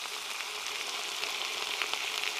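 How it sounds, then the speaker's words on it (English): Bacon frying in a cast iron pan over a campfire with garlic, a steady close hiss and crackle of sizzling fat that continues evenly, with no talking. "We'll just have that bacon cook for a while, guys, and that turn a little bit crispy."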